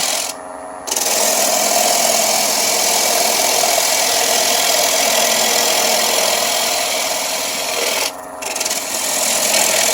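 A gouge cuts away the tenon on a natural-edge wooden bowl spinning on a wood lathe. The steady, loud rasping scrape runs almost without a break, stopping briefly near the start and again toward the end.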